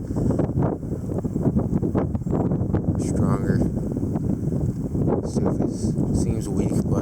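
Strong wind gusts in a dusty spring wind storm roar steadily against the microphone, with someone talking over the buffeting throughout.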